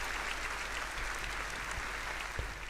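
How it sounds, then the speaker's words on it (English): A crowd applauds steadily at a live interview show, a dense even wash of clapping heard alone at moderate volume for a few seconds. "The crowd goes wild."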